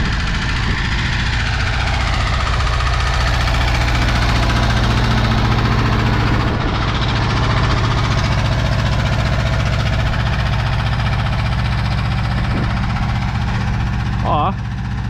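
Labouring 28 hp tractor engine in wet, hard ground, a loud close steady diesel thrum with knocking pulses held throughout, with voices faintly under it.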